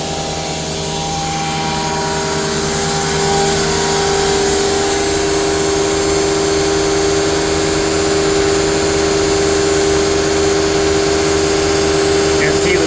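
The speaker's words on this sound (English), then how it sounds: "so we'll vacuum this tank empty, give it a good clean" A vacuum tanker's pump and engine drone loudly and steadily while emptying a septic tank, a constant humming roar with a sustained tonal whine that swells slightly a few seconds in.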